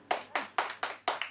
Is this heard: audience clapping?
yes